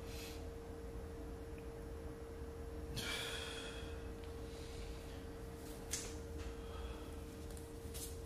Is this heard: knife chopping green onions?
no